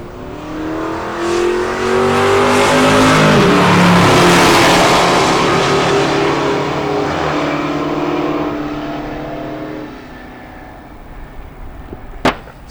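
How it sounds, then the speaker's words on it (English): A 1971 Dodge Challenger muscle car launches at a drag strip, its engine roaring loud and close as it revs up and pulls away, then fading into the distance with a sharp click near the end. "Steve Town with an older Dodge Challenger. 71 version. A real muscle car"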